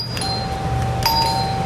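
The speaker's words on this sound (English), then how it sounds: "Ring the doorbell and we'll just sit here" A doorbell chimes in a hospital lab area, a sustained bright tone starting early and a second ring partway through, over a steady low room hum with no talking.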